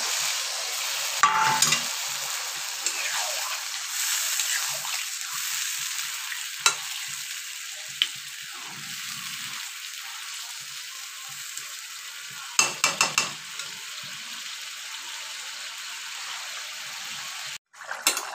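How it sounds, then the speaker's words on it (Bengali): Jackfruit and potato curry with added water bubbles in a pan, a steady close hiss and simmering crackle running throughout, with a few brief clatters partway through and near the end. "তরকারিটা ফুটে গেছে"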